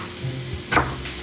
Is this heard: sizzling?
yes